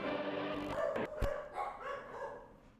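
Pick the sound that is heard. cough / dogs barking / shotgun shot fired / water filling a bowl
dogs barking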